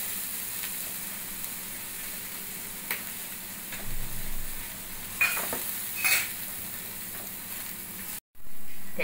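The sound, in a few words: sautéing ridge gourd with Malvani masala and chana dal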